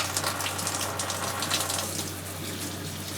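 A shower aboard a cruising sailboat runs under strong pressure, a steady close hiss of spraying water over a low pump hum, with no talk.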